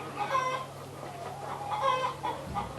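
Hens cluck and murmur across poultry houses holding about 12,500 birds in six sheds, a continuous, moderately distant chorus of overlapping clucks with no talk.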